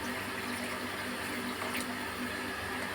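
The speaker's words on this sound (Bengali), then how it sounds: "মশলা কষানো হয়ে গেছে ফুলকপি আলু টমেটো দিয়ে, এবার আমি জলটা দিচ্ছি" Water pours steadily into a pot of cooked-down spiced cauliflower, potato and tomato curry, a constant close rushing splash with no break.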